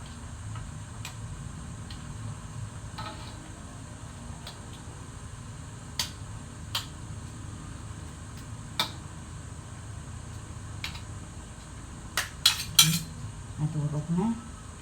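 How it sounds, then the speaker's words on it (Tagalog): Tomatoes being crushed in a cooking pot for sinigang sa kamatis, heard as faint scattered clinks and taps of a utensil against the pot, a busier cluster of knocks and scrapes near the end. "dudurogin na natin yung kamatis"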